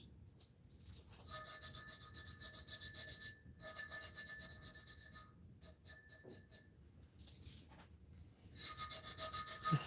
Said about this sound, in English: I'm rubbing as fast as I can.